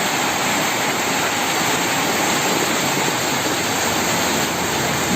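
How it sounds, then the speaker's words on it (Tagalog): Heavy rain pours down during a stormy ride in Sual, Pangasinan, a loud, dense, unbroken hiss and roar that stays steady and close throughout with no speech. "ang lakas ng ulan"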